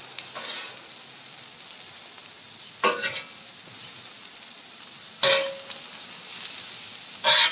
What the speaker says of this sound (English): now I'm going to add the peppers and just get those softened up just a little bit